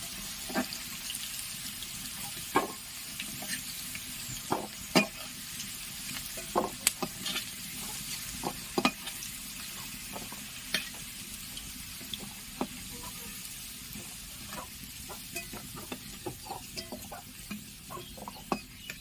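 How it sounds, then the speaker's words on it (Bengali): Potatoes frying in hot oil for a fish-head muri ghonto dish, giving a steady sizzle with scattered crackles and pops throughout, close and moderately loud, with no talking. "লাল আলুগুলো লাল লাল করে ভাজা হয়ে গেছে"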